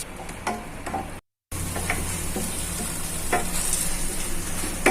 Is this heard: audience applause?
no